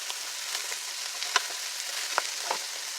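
Onions fry in rendered bacon fat, giving a soft, steady sizzle with a few sharp crackles and light taps of a stirring utensil; the sound is close and fairly quiet, with no talking.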